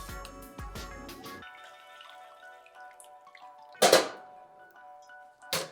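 Ice clinks into a mixing glass, then liquor pours briefly with a splash, close by over a faint musical background.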